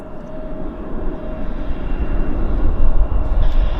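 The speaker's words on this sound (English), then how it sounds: "it took off above the plane of view of the camera" Airplane taking off at Vancouver airport, a steady broad engine roar that builds gradually in loudness over a few seconds, heard alone without voices.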